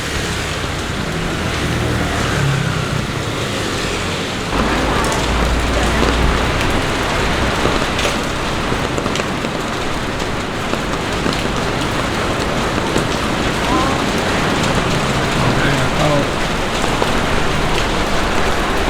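Heavy rain pours steadily in Macau with a dense, hissing wash of drops, loud and unbroken throughout.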